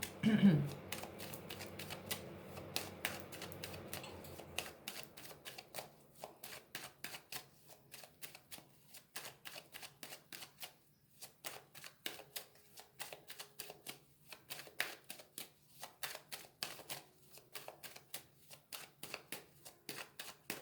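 Oracle cards shuffled and cut by hand, with a dense riffling flutter for the first few seconds, then a long run of crisp, close slaps and flicks as the deck is worked, with no talking.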